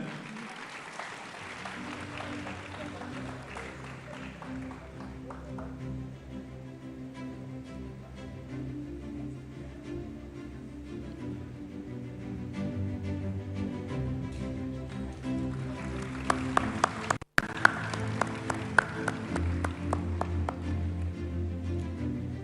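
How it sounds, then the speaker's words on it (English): An audience at a film festival opening ceremony breaks into a round of applause, steady clapping that swells louder toward the end with a few sharper claps standing out. "Round of applause, ladies and gentlemen."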